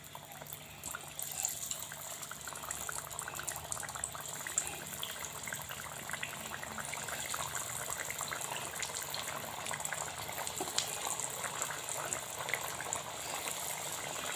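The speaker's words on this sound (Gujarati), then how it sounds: "આ કબાબને હવે આપણે તળી દઈશું." Kebabs frying in hot oil, a continuous soft bubbling sizzle with scattered crackles, steady and fairly close, with no voices.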